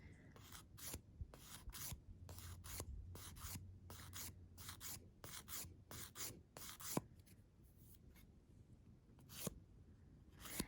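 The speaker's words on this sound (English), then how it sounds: "When I file, I am moving my nail away from the direction I'm filing" A nail file rasps across dip powder nails in quick, repeated strokes, a close, fairly quiet scratching rhythm with short pauses and no talking.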